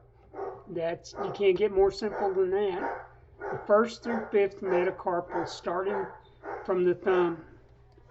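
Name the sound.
dog barking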